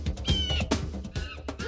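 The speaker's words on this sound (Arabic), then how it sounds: "تعرفوا معنا إلى القطة ذات الرأس الورقي" A cat meows repeatedly in short, close, clear cries, with a few drawn-out caterwaul-like calls, alone and fairly quiet.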